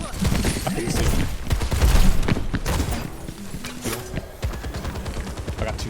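Gunfire crackles in a match of Overwatch 2, with rapid bursts and individual shots mixed with mechanical clicks, loud at first and then thinning out.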